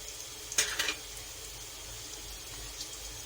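Whole fenugreek seeds, nigella and fennel hit hot oil with a brief crackling spatter, then settle into a faint, steady sizzle.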